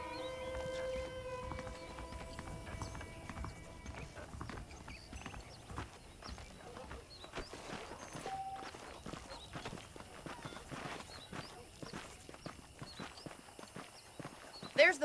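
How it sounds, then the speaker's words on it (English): Horses plod with steady clip-clop hoofbeats in the Red Dead Redemption video game, moderately close and continuous under a quiet, busy game soundscape. "The horses are saddled up over here."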